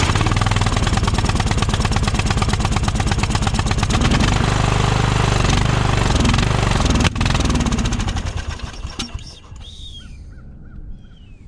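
An old riding mower, left abandoned for years, runs loud and steady right after the choke is turned off, its engine chugging evenly before roughening and fading toward the end.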